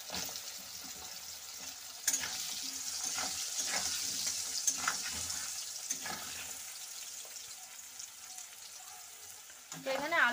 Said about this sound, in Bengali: আলু গাজরগুলো একসাথে ভেজে নেব।